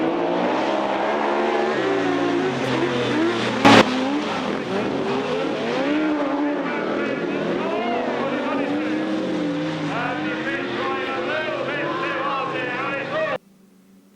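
Dirt racing cars in the first heat of the fours class pull away from the line together, engines roaring and revving steadily and close, with a commentator talking over them until the sound cuts near the end.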